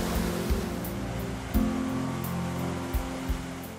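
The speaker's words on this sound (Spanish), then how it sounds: "El arroyo Villouso nos sorprende con pequeños y llamativos saltos de agua." The Villouso stream runs over small waterfalls, giving a steady broadband rush of flowing water with a few soft splashes. The sound is continuous and moderately loud, with no talk.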